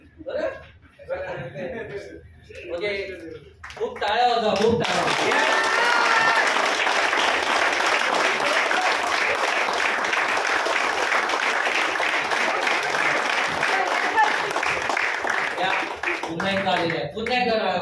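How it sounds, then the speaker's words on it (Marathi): Sustained audience applause with clapping and some laughter fills most of the stretch, loud and steady after a few seconds of talk at the start, with speech returning briefly at the end. "पुन्हा एकदा टाळ्या."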